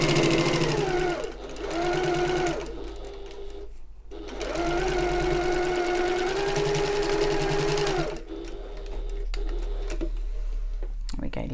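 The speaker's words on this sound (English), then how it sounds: "just going to sew across this boxed corner using our regular seam allowance" A sewing machine stitches across a boxed corner of a shoulder bag in two close bursts of steady motor hum, a short pause between them, with backstitching at the ends and someone talking lightly over and after the runs.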